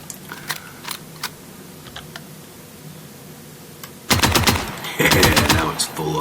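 Full-auto rifle fire in the gunsmithing game Gunsmith Simulator: two loud rapid bursts of shots, the second longer, after a quieter stretch of scattered mechanical clicks and handling sounds.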